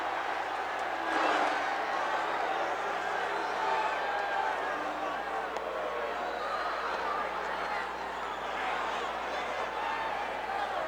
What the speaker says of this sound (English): Listen to the roar of this capacity crowd.